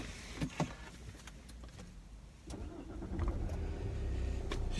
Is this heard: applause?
no